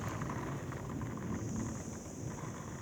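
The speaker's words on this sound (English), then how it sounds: "There's rain flying everywhere." Heavy rain lashes down steadily during a thunderstorm on a street, a dense continuous wash of drops with gusting wind, loud and unbroken throughout with no voices.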